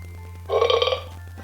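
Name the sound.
burp sound effect from Mebo 2.0 robot toy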